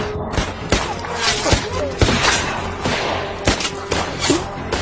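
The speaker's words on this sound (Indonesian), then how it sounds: "Eli segera membalas, setiap tembakannya akurat dan mematikan." Film gunfight with rapid, loud gunshots cracking in quick succession over a dense, rumbling action soundtrack, shots landing roughly every half second throughout.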